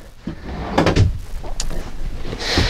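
Big deep drawer in a 2015 Leisure Travel Unity 24IB RV sliding open and shut, a few close knocks and thuds of the drawer and its latch with no talk over them.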